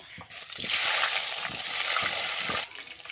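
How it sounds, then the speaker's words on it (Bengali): Potatoes being stir-fried in oil in a pan for a simple rohu fish curry with potatoes, giving a steady close hiss with soft clatters of stirring throughout, no talking. "তাহলে আলুগুলোও কষে নেব"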